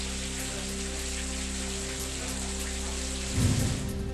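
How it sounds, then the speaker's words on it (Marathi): Heavy rain in Solapur's Karmala area falls as a steady dense hiss over a low hum, with a brief louder rumble near the end. "अनेक ठिकाणी जोरदार पाऊस।"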